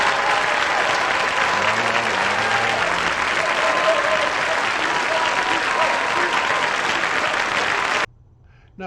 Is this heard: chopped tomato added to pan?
no